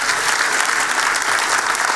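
Audience applause at a talk-show taping, steady dense clapping filling the whole moment at even loudness, close and continuous with no voices over it.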